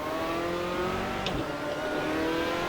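A GT race car in a racing sim on the Nürburgring in the rain accelerates with a loud, steady engine drone that rises in pitch, heard close and alone without talk.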